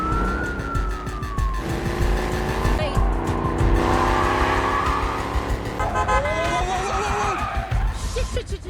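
Engines roar and tires squeal repeatedly in a fast car chase, with a siren wailing and a voice shouting over the din.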